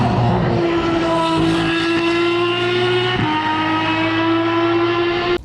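Aston Martin Valkyrie AMR Pro race car with a naturally aspirated V12, a loud, sustained high-pitched engine howl holding steady near by with a slight pitch shift midway before cutting off at the end.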